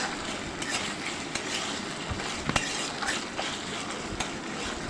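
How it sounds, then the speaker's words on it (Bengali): A spice paste with ground garam masala sautéing in a pan on a low flame, a soft steady sizzle with occasional light scrapes and taps of a spoon, close and quiet. "লো ফ্লেমে আমি মশলাগুলোকে কষিয়ে নিচ্ছি"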